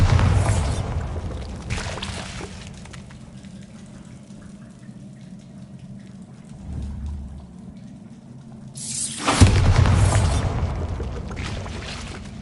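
Bombarda spell blasts in Hogwarts Legacy on PS5: a loud booming burst at the start and another big explosive rush near the end, separated by a quieter rumbling ambience.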